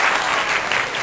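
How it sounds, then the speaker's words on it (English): Audience applause with steady, dense clapping filling the whole short stretch at even loudness, no voices over it. "Y'all go ahead and clap that thing on up."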